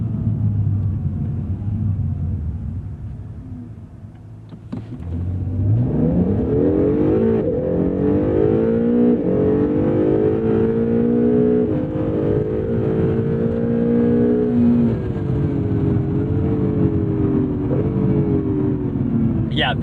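A 2017 Acura NSX idles with a low rumble, then surges into hard acceleration, its engine note climbing steadily and loudly over several seconds and staying strong to the end.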